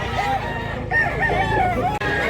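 A stag rooster, a two-year-old gamefowl offered for sale, crows in a long drawn-out call close to the microphone, with faint voices in the background.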